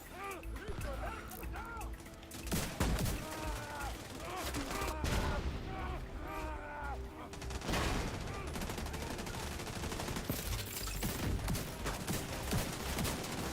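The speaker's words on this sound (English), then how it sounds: "All guys are shooting at us, it looks like, right?" Enemies fire at the player in The Division 2, with repeated gunshots and rapid bursts at varying distance over ongoing game noise, and people talk throughout.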